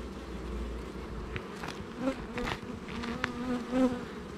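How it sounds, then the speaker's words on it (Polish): Honey bees hum and buzz around a hive frame during a brood box inspection, a close continuous drone with individual bees whining past, no speech. "Zrzucimy tą pszczołę, która tutaj jest."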